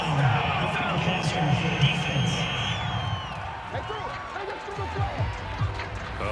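Stadium crowd in the Madden NFL 22 football video game reacting to a penalty call, a loud continuous roar of disapproval with scattered whoops, and commentary voices speaking over it.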